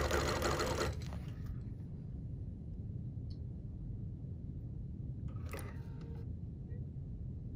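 A BERNINA Q-matic quilting sewing machine stitches with a continuous mechanical whir and rapid needle rhythm, with a brief clatter at the start and another burst of clicking near the end.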